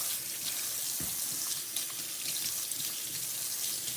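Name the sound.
water running from tap while rinsing chopping gear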